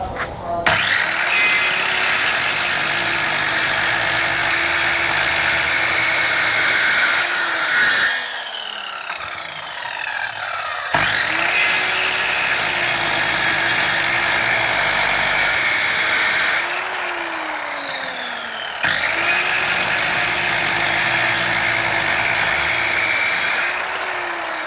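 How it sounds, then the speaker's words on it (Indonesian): A Kyuho MK7 7-inch circular saw cutting through wood, loud and close, with three long rasping cuts separated by short pauses where the spinning blade whines down and then starts again. "cukup bising juga untuk circular saw dari Yuho ini"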